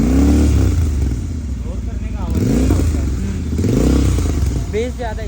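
A Royal Enfield GT 650 motorcycle engine revs close by in a few rising and falling bursts over a deep, throbbing idle, with people talking over the engine sound.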